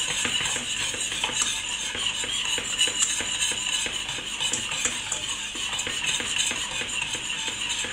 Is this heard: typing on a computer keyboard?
no